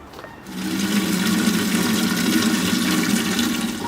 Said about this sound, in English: Let's get the watering can filled up with rainwater and a micro dose of fertilizer.